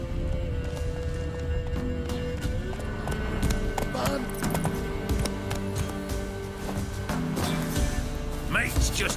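A horse galloping in The Witcher 3 video game, its steady clip-clop of hooves running continuously beneath music and game ambience, with a voice briefly urging the horse on.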